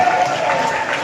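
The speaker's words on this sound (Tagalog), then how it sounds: "Palakpakan natin ang Panginoon." A congregation at an El Shaddai prayer meeting in Lower Bicutan claps together in steady, dense applause, close and loud for about a second.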